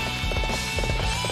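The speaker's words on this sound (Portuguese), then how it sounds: "Vem aqui, cavalo. O cavalo tá correndo de mim." A horse galloping in the Warriors Orochi 3 video game, a steady rhythmic run of hoofbeats over continuous game background sound.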